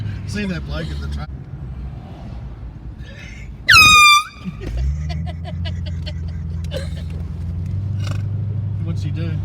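A loud air horn blares from a passing car in one short, piercing blast, then an engine drones steadily nearby while voices chatter before and after.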